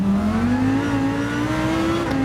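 A GT3 race car in Gran Turismo 7 accelerates hard, its engine drone rising steadily in pitch through one long pull before a brief dip near the end, loud and continuous with no talking.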